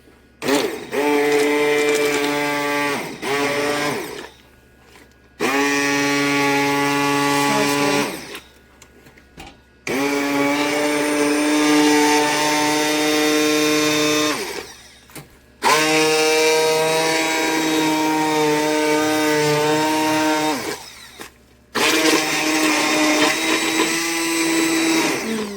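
A blender purees cooked apples for stovetop apple butter in five loud whirring bursts separated by short pauses, each with a steady high motor whine that wavers slightly as the fruit churns.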